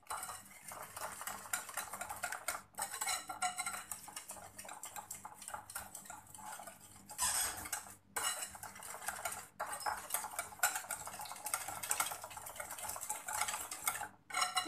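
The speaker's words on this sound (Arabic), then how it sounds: "كنضربوه مزيان." A cream mixture of sugar and cornstarch beaten in a bowl for a lemon meringue tart, with continuous brisk scraping and clinking of a whisk against the bowl, close and steady with a few brief pauses.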